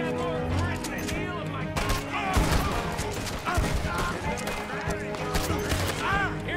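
Sniper and other gunfire in a Red Dead Redemption 2 shootout crackle as steady, dense shots beneath continuous talk from a player, with other game sounds mixed in throughout.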